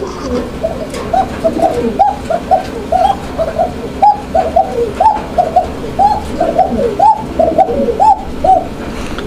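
Pigeons at a seller's loft coo repeatedly in a steady stream of soft, rolling calls, close and fairly loud, with no talking over them.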